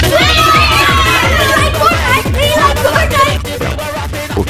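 Crowd of many players shouting and cheering in the Roblox game Blox Fruits, a dense, loud, continuous clamor of overlapping excited voices with rhythmic thumping underneath.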